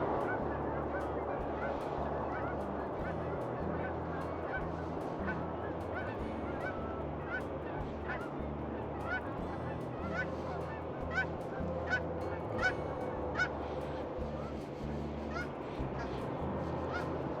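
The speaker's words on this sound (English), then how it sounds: "There's birds out there in the water, 2 spots that haven't frozen over" Geese and other waterfowl honk repeatedly from open water on a partly frozen lake, distant calls scattered over steady wind and low rumble, with occasional talk.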